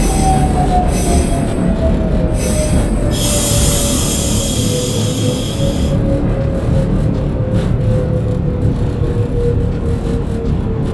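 An R168 subway train on the Q line in the OpenBve simulator rumbles along loudly, with a long, steady wheel squeal that slowly falls in pitch and a brief hiss partway through.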